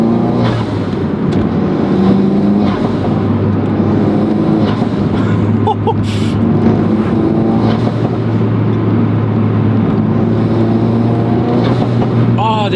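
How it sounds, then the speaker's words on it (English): A tuned 415 HP Ford Focus RS with a stage 4 clutch accelerates hard on an asphalt road, its loud engine and turbo droning steadily and rising in pitch close up throughout. "Oh, the turbo."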